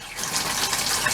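Water gushes steadily from a newly reinstalled RV bathtub faucet, a continuous close hissing stream with slight sputters from air in the lines, with no talking.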